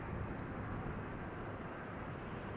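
A Boeing 777 jet roars past on departure from runway 36L at Amsterdam Schiphol Airport, a loud, steady, broadband engine rumble that holds constant throughout with no voices.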